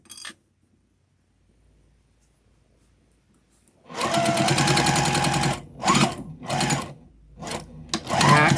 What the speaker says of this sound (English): You're going to want to back stitch and just go right across.